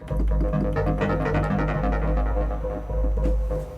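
A modular synthesizer arpeggio ripples along in quick repeating notes, its wave folder output running through a low pass gate, its tones smeared and trailing from delay and reverb over a throbbing low bass.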